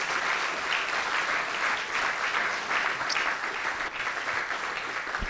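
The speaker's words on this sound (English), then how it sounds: "Let's give our speakers a round of applause." Sustained, steady applause for speakers from a sizable audience at a cost of living summit, many hands clapping continuously for several seconds.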